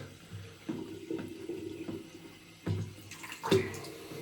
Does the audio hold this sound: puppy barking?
no